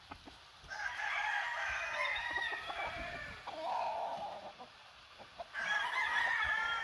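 A chicken crows and clucks nearby in several bursts, with a rough, drawn-out crowing call near the end.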